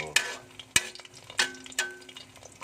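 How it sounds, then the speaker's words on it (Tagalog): Eggs fry sunny side up in a pan, with sharp scraping and stirring clicks over a soft crackling sizzle, close and distinct, four main hits across a couple of seconds. "piniprito na tayo na, piniprito na natin guys"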